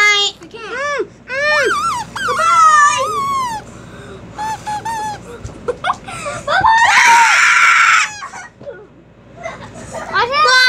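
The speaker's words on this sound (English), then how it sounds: "Why can I not stop screaming?" Children shout and scream in bursts amid playful chatter and laughter, including a long, loud, piercing shriek in the middle, with excited kids' voices throughout.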